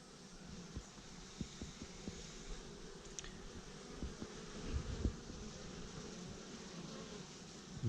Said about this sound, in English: All these bees flying around.